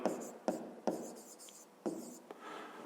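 Pen or pencil writing on paper while working a fifth-grade math exercise, with a few sharp strokes and taps between softer scratching, close and quiet.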